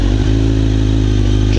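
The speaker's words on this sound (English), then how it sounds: "You could hear the engine rev up a little bit." A 1000cc liter-bike motorcycle engine revs as the clutch is let out, a loud, close, steady idle-to-low rev drone with a small clunk near the start.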